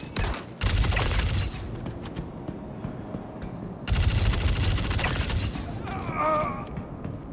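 Gunfire in the video game Star Citizen comes in two loud rapid bursts separated by a quieter stretch, with a mechanical whine toward the end.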